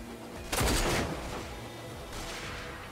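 Gunfire in the shooter video game RAGE, one loud burst of shots followed by a fainter burst a moment later.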